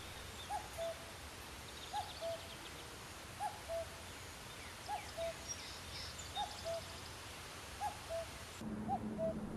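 A cuckoo calls in a forest, its two-note call repeating steadily about every one and a half seconds, fairly distant and soft over quiet woodland ambience.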